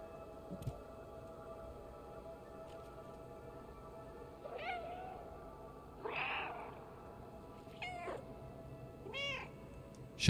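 A cat in the video game Stray meows four times in short, plaintive calls spaced a second or two apart, heard close over a low, steady ambient hum.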